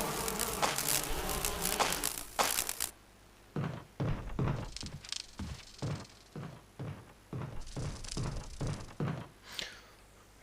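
Bees buzzing around a hive in Resident Evil come in a run of short, rhythmic bursts about every half second. The buzzing follows a louder noisy stretch at the start.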